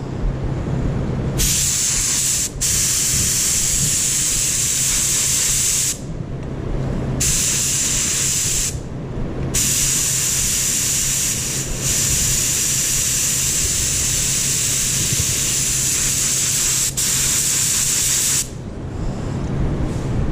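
Spray gun laying another coat of paint onto a Nissan 300ZX part, a loud steady hiss in long bursts with brief pauses between passes.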